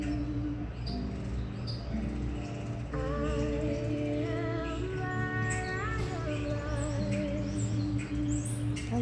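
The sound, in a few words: birds singing outdoors in a park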